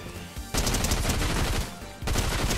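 SMG gunfire in Fortnite, with two sustained rapid automatic bursts separated by a short pause, loud and close, with no talking.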